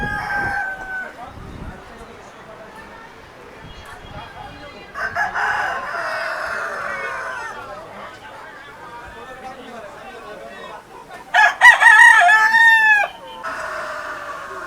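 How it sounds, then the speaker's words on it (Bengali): Roosters crow and hens cluck at a roadside eatery where chickens are kept, a loud crow standing out near the end over softer clucking, while people talk nearby throughout. "এখানে কিন্তু মোরগ রয়েছে এবং মুরগিও রয়েছে"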